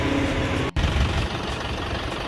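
A tractor engine drones steadily while pulling a plough through waterlogged mud in rain, a loud, continuous low rumble with one brief dropout near the start.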